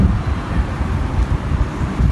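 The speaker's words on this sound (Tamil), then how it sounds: "செம்ம காற்று வருது இந்த விண்டோ ஓப்பன் பண்ணி வச்சது" Wind blows in through an open window at night, a steady, close, loud low roar with gusty rumbling and no talking.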